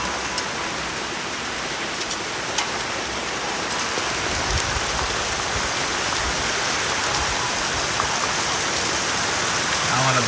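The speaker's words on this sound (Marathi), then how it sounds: "पाऊस बघ कसला आहे जोरात आला पाऊस" Heavy monsoon rain in the Konkan pours down steadily, a dense, even hiss of drops hitting surfaces throughout, loud and close.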